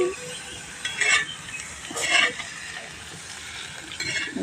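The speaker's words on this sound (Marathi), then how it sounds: "छानपैकी सुक्या मिरच्यांची फोडणी घालणार आहे" Dried red chillies and coconut sizzle softly in oil for tempering jackfruit sabzi over a wood-fired chulha, with a spoon clinking against the pan in a few short stirring bursts.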